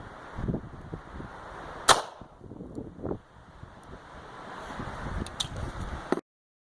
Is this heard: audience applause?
no